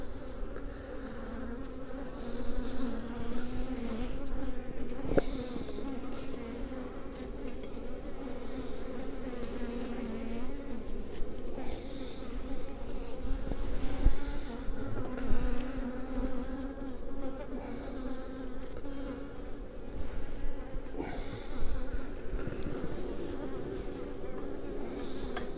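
Honeybees buzzing at a homemade styrofoam beehive with a honey super added, a dense steady hum of many insects close by, continuous throughout with slight swells.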